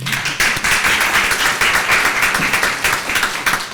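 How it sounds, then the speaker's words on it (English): An audience applauds at a nonprofit event on BIPOC mentorship: dense, steady clapping from a crowd fills the room loudly and evenly, holding its level throughout. "you can give her a round of applause"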